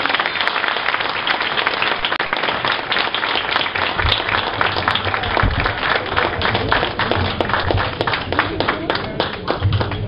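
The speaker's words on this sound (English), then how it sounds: "give her a big round of applause" Steady applause from a crowd at an end-of-year school celebration, greeting the Manhattan Borough President as she enters the room; dense, continuous clapping throughout with some background voices.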